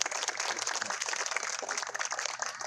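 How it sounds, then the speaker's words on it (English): An outdoor crowd at a community center playground grand opening claps steadily for the park team, a dense, even round of applause at moderate distance with no talking. "So I'd like to give all those folks a round of applause,"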